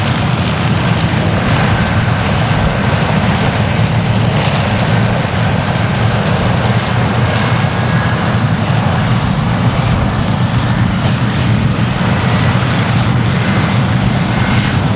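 A Bristol Blenheim Mk. I(f) at the East Kirkby air show, its piston engines droning steadily and loudly throughout, a continuous propeller roar with no break and no voices.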